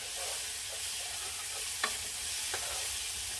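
Onions fry in a pan with a steady, even sizzle, broken by a few faint scrapes and taps of stirring, close by and with no talking.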